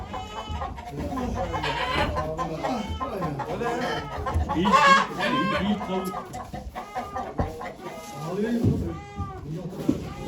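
Roosters and hens call and cluck close by in a crowded yard at a poultry auction in Ankara, overlapping with people talking over the birds throughout.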